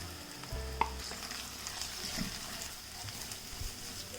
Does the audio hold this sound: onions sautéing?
yes